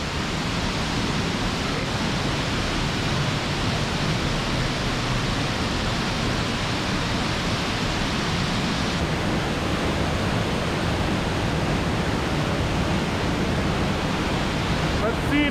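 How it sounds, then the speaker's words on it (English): A waterfall in the Colombian landscape roars as a dense, unbroken rush of water, loud and close, with no pause throughout. "And here comes the waterfall."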